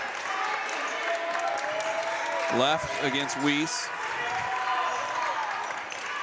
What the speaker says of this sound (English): Vinton-Shellsburg trying to cheer on their defense here as they're playing great defense